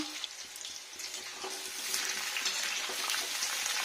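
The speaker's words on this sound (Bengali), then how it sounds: "আলুটা ভালো করে ফ্রাই হতে হবে এখানে" Soft sizzle of potatoes frying in oil that grows louder partway through, mixed with watery hiss and faint clinks, fairly quiet and close.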